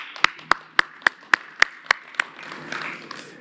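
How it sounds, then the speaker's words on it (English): One person claps in a steady, evenly spaced rhythm about eight times during an opening address at an expo, then the claps give way to softer, diffuse applause from a wider crowd. "I'm going to give you a warm round of applause myself"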